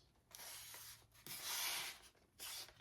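A printed paper page being folded for a junk journal makes quiet, close rubbing and scraping sounds in several short bursts, with soft crinkles between them.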